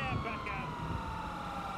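A police siren in a video game car chase wails steadily through the whole short stretch, its repeating tone sitting under a busy mix of engine and game noise.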